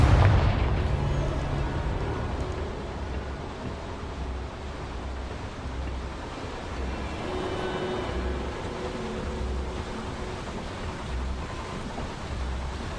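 A Confringo spell blast in Hogwarts Legacy opens with a loud, deep explosive boom that gives way to a long rumbling, surf-like roar and low pulsing hum, fading only slightly over the following seconds.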